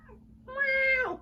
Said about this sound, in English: Meow. That's what he says.